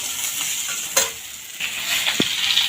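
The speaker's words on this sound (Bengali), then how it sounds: "ডাঁটা ভেজে নিচ্ছি ডাঁটা আলু তরকারির জন্য" Drumstick stems frying in a pan for a potato curry, a continuous close sizzle broken by a few sharp scrapes and clacks of stirring, no talking.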